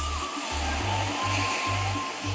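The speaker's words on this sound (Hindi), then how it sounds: "समंदर की शोर करती लहरों के बीच एकांतवास।" Sea waves roar and wash around a rock at Kanyakumari in a dense, continuous rush of surf, loud and close, with no voices.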